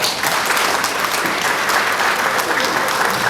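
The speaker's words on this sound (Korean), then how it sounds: "박수 부탁드립니다" Loud, steady applause from a crowd, dense clapping close by that continues without pause for a few seconds.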